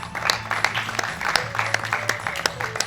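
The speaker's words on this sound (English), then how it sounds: "Please keep the applause going." Applause at a national MSME business convention, an audience clapping in a steady, moderately loud rhythm with distinct individual claps, close and continuous for a few seconds.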